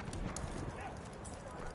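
Horse hooves galloping in the video game Battlefield 1, a quick clip-clop rhythm set among muffled battle noise while players talk over it.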